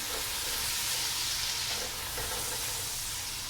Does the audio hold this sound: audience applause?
no